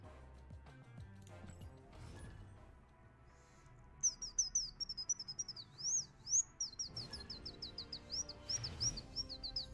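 A person whistles an imitation of a bird call in quick, chirping bursts, fairly close and clear, over faint background game sounds during a Hearthstone stream.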